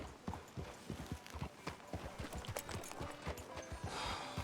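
Steady clip-clop of horse hooves walking at an even pace on hard ground in the video game Red Dead Redemption 2, continuous and fairly quiet throughout.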